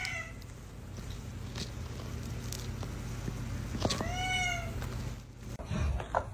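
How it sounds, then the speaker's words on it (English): A house cat meows a few times indoors, the clearest cry a drawn-out, falling meow near the middle, heard close over a low background hum, with some rustling and faint movement toward the end. "Cats just be like, meow."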